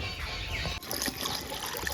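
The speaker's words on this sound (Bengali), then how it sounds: "এখন অল্প জল দিয়ে দিব।" Water poured into a pan of tomatoes and jujubes frying for tomato chutney, a brief liquid trickle and splash up close after a short pause, no voices.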